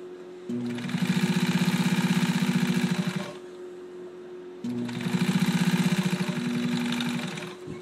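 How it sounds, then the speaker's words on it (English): A sewing machine stitches along piping in two steady bursts of about three seconds each, whirring close and loud with a rapid needle rhythm and a low motor hum between bursts. "So we sew right along our piping as we have marked out."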